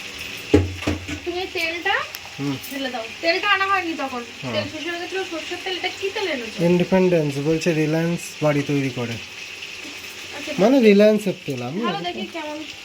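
Marinated chicken for biryani fries in oil in a pan on a gas stove, its continuous sizzle and occasional stirring running steadily beneath a voice that talks throughout.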